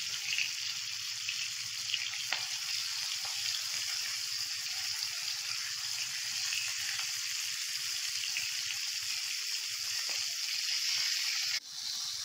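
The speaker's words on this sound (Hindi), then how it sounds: "भिंडी हमारी अच्छे से फ्राई हो रही है" Okra (bhindi) fries in hot oil, giving a continuous close hissing sizzle that holds steady and fairly quiet for several seconds, with a brief clatter near the end and no voices.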